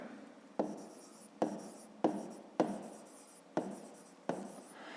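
Pen writing on paper while working a grade 5 maths exercise, six sharp scratchy strokes at a steady rhythm, each starting with a crisp attack and fading, close and clear with no talk.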